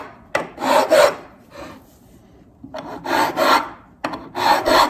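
A diamond-encrusted fret crowning file works stainless steel guitar frets, giving three close, raspy rubbing passes, each made of back-and-forth strokes, with short quiet gaps between them.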